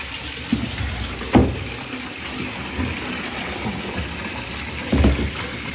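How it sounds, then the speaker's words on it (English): Steady rushing water pours continuously, like a tap filling a tub, with a few soft knocks and splashes breaking through. "Let's go run the water"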